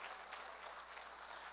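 A church congregation at a Sunday evangelistic service in Busan claps together, a steady dense patter of many hands at a fair distance, with no voices over it.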